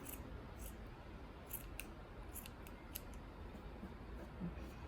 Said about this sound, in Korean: 이렇게 해서 사선으로 자를게요